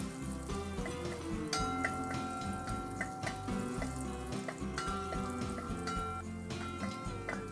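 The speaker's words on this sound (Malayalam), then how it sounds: "മുന്തിരിങ്ങ നന്നായിട്ട് പൊങ്ങി വന്നു, മൂത്ത് വന്നു." Raisins fry in hot ghee for banana payasam, a continuous close sizzle and crackle with occasional light clinks of a utensil against the pan.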